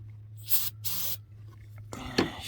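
Starting fluid sprayed into the intake of a Ford 6.9 IDI diesel engine on a dump truck: two short, close hissing bursts of aerosol over a low steady hum, then a rougher rush of noise.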